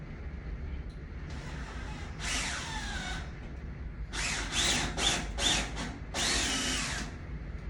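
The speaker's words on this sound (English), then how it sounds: "So we'll take the drill and the Tapcon screw. First we need to drill our pilot hole." A power drill whirs in several bursts while drilling a pilot hole for a Tapcon screw when installing a crawlspace door, a long run followed by shorter pulses, close and loud against a steady background hum.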